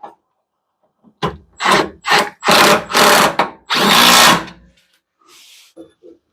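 A power tool runs in several loud, close bursts of varying length while tightening rock slider bolts on a Jeep Comanche, with short pauses between each whirring pull and a faint tail at the end.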